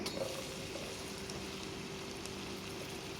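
Chopped onions are sautéed with garlic in a pan, giving a faint, steady sizzling hiss that holds evenly throughout with no talking.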